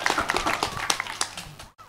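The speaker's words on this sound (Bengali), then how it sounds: "আচ্ছা, আমাদের বন্ধুর জন্য একটা হাততালি হয়ে যাক অনেক জোরে।" A group of children claps loudly and briskly for a young friend, a short burst of quick, uneven hand claps that stops abruptly at the end.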